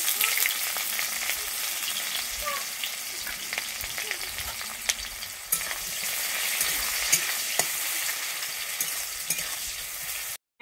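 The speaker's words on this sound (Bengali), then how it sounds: "আমি দিয়ে দিচ্ছি একটা কুচানো পেঁয়াজ।" Chopped onion frying in oil with dried chilli and five-spice seeds for a Bengali pumpkin-greens dish: a continuous crackling sizzle with scattered sharp pops and occasional spoon scrapes, steady and fairly close, with no talking.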